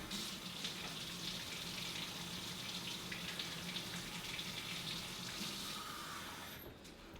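Water pours steadily from a tap into a container for sourdough bread dough, a continuous faint splashing gush in a kitchen that stops near the end.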